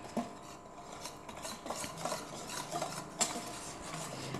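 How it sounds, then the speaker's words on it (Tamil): Rava dosa batter with curd and water being stirred in a vessel, repeated scraping and swishing strokes with light clinks of utensil against the pot, steady and close. "தேவையான அளவு தண்ணி ஊற்றிக்கிட்டு நல்லா மிக்ஸ் பண்ணிக்கலாம்."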